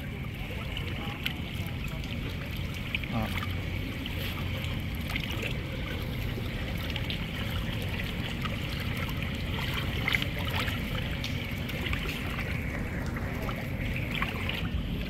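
River water rushing and gurgling continuously around an amphibious vehicle, a close, steady wash of flowing current with splashing texture, unbroken for the whole stretch.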